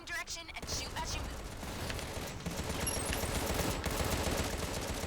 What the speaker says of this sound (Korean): 이게 움직이면서 총을 쏘는 거예요